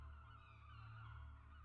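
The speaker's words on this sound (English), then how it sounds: "Many birds circle in the sky overhead." Birds circling over a beach in the video game The Last Door: Season 2, heard as faint, steady, goose-like honking calls drawn out as a soft sustained tone, with no speech.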